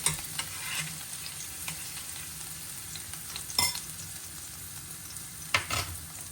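Garlic frying in olive oil in a home kitchen pan, a steady soft sizzle running throughout with occasional stirring scrapes and two sharper clinks of a utensil against the pan.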